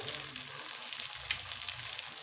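Salt, turmeric and Kashmiri chilli powder frying in a pan for Bengali ghugni, a soft continuous sizzle with light stirring scrapes and a sharper clatter at the end.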